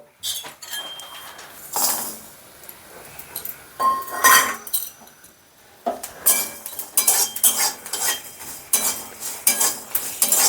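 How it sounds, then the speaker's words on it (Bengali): Garlic, black cumin and dried chillies dry-roasting in a dry wok for bean bharta, with repeated metallic clinks and scrapes of a utensil against the pan, fairly close and with no talking. "আগে সেগুলো শুকনো কড়াইয়ের মধ্যে ভেজে নেব"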